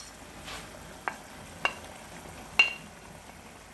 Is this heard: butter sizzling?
yes